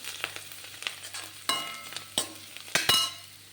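Curry ingredients for Tirunelveli sodhi kuzhambu sauté in coconut oil, with a steady soft sizzle broken by several sharp scraping stirs of a spoon against the pan, close and moderately loud, with no voices.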